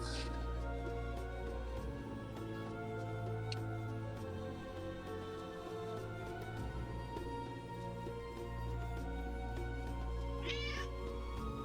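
A cat meows a few times over a steady, dense background of hum and music-like tones, with no talking.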